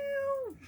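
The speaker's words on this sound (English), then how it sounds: "when the kitten, which is Ezra, when he meows so quiet compared to Elijah" Ezra, a small kitten, gives a single short, soft meow that slides downward at the end, close and alone.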